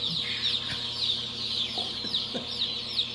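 A flock of young chicks peeps continuously in a brooder, dense overlapping high chirps with a few lower clucks mixed in, close and steady.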